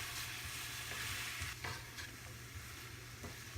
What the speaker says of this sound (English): now I'm going to add the potatoes coated with red chili powder and mix thoroughly